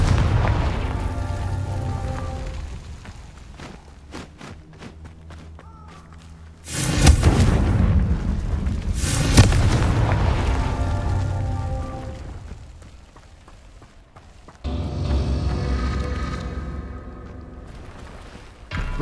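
Confringo blasting spell explosions in the Hogwarts Legacy video game: several loud, booming bursts land in separate groups, each fading into a crackling rumble over quieter game ambience, with no talk.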